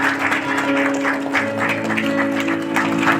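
Guests clap steadily during the cake cutting at a Christian wedding celebration as the couple feed each other; the dense applause runs throughout over a sustained tonal hum.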